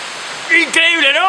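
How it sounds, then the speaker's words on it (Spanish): The Marquiri waterfall near Tarija, Bolivia, rushes as a steady broadband wash of falling water, and a person talks over it near the end. "Te dejo observando un poquito el salto de agua que se llama Marquiri."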